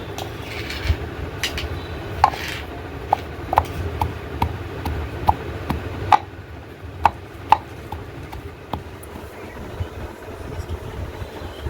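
Jackfruit pieces with onion and chili are ground by hand for a Bengali bhorta. Rhythmic scraping fills the clip, with sharp knocks and clicks at irregular beats, close by, and no voices.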